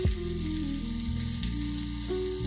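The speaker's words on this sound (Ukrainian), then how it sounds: "Ось так на цю ж саму планшу кладемо котлетки." Burger patties fry on a flat plancha griddle with no added fat, giving a steady, close sizzle that holds evenly throughout with no talking.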